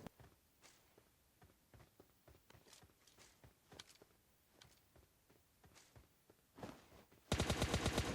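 An M416 rifle fires in PUBG Mobile Lite: scattered distant shots and footsteps give way to a loud, rapid automatic burst at the end.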